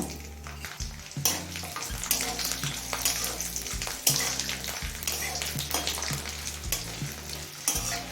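Garlic and black cumin seeds sizzle in hot oil, a continuous crackling fry broken by stirring knocks, with a low steady hum running beneath throughout.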